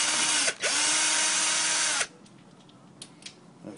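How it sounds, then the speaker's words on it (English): A power drill whirs loudly as it backs screws out of the bottom corner of a rolling cubicle panel. Two close bursts are split by a short dip, and a few faint clicks and knocks follow after the motor stops. "Now we're gonna remove the screws off the bottom corner."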